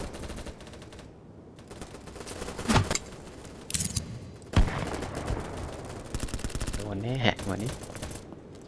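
Gunfire in BattleBit Remastered crackles in quick bursts and single sharp cracks, moderately loud against busy game noise, with a rattling automatic burst near the end.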